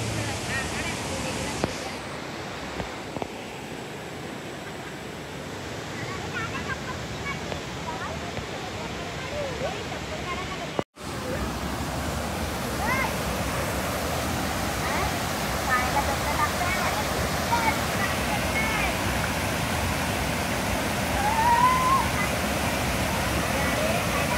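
Water rushes steadily over a dam near a home, a loud continuous broadband roar with a brief dropout partway through, while voices speak over it.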